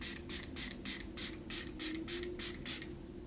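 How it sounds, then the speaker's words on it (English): A spray bottle gives about a dozen quick, evenly spaced hissing spritzes in a row, close and crisp, over a faint background hum. "You always want to spray it out first, right?"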